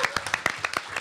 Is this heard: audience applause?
yes